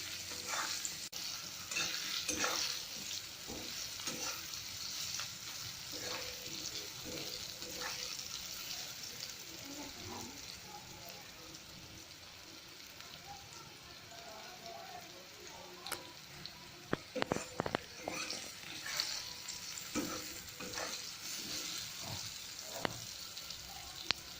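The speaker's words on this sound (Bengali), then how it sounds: "পরিমাণ মতো নুন আর হলুদ দিয়ে আমি এগুলোকে ভেজে নেব।" Taro and eggplant fry with salt and turmeric in a pan, making a soft, continuous sizzle broken by the scrapes and clatter of stirring, all fairly quiet and close.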